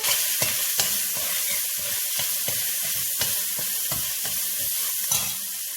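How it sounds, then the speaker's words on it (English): Mashed luncheon meat (jamonilla) frying in a pan in achiote-tinted oil as the base for a Puerto Rican sofrito: a steady, close sizzle broken by repeated scraping stir strokes, with no talking. "I'm going to add the mashed up jamonilla into the pan so that I can start building my sofrito"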